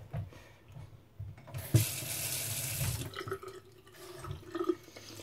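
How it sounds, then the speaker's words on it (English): Water is poured from a tap into a blender holding grapefruit pieces for ice cream, a close splashing stream lasting a second or so and then trickling and dripping away. "We're gonna add in a touch of water to this."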